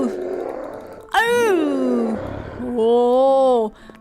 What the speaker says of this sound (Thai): มีเสียงคำรามของซัมบี้ด้วยนะคะ